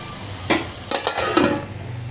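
A spoon scrapes and clinks a few times against a pot while tomato and drumstick curry is stirred, three or four short knocks over a low background hiss.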